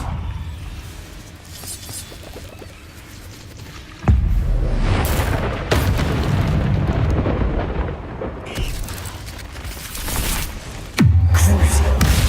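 Confringo spells burst in a cave in Hogwarts Legacy: several loud, booming fiery explosions hit in succession, each with a rumbling roar that lingers, heavy and close, with the last blast near the end.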